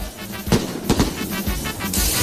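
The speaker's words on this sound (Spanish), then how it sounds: "fuegos artificiales para... Ahí está." Fireworks go off at a street festival celebration, a string of sharp cracking bursts spaced irregularly over a couple of seconds, with no voices.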